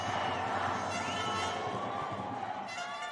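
A volleyball arena crowd cheering for Turkiye at a EuroVolley match against Poland, a loud dense roar with whistles and chanting that holds steady throughout.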